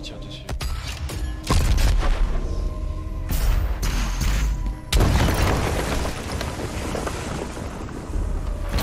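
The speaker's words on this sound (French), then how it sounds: "Si je te tire dessus." Heavy gunfire and booming blasts from the video game Doom Eternal on PS4, loud and dense in repeated bursts, with a brief voice faintly underneath.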